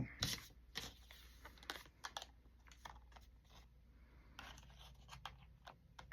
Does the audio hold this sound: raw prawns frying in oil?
no